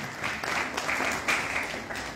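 Applause from the congregation at a First Holy Communion ceremony at a school, a moderate crowd clapping steadily in a hall with a soft, continuous patter of hands.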